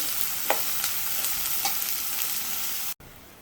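Onion sautés in hot oil with a steady, bright sizzle and a few soft stirring scrapes, close and continuous until an abrupt cut near the end.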